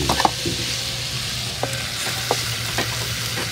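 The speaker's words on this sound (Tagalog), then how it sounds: "tostahin muna natin itong sahog ng adobong kangkong" Ingredients for adobong kangkong toasting in a pan, with a steady low sizzle and a few sharp clicks of stirring near the start and scattered later, close and moderately loud with no talk.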